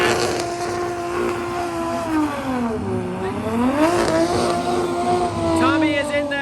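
A BMW E46 drift car, one of Drift HQ's rental cars, accelerates toward a jump at a drift event, its engine note rising and falling steadily and loud throughout, with voices talking over it.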